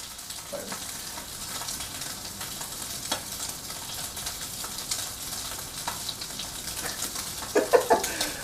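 Bologna fries in a pan with a soft, continuous crackling sizzle, moderately quiet and near, broken by occasional clinks and scraping stirs, and a few louder pops near the end.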